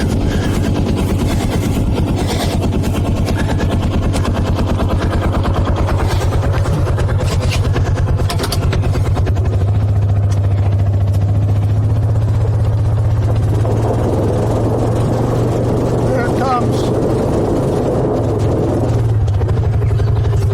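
A Kawasaki Mule four-wheel-drive utility vehicle with its differential locked labors under load, a loud, continuous, rumbling engine drone with rattling, fluttering texture that rises in pitch and strains midway through.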